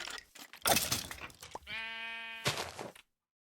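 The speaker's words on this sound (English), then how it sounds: "Shearing the black sheep I spotted is just getting a little bit more dangerous than I anticipated." Sheep bleats from a video game where a black sheep is being sheared, with a clear sustained bleat in the middle between bursts of crunchy game noise, loud and close, no talking.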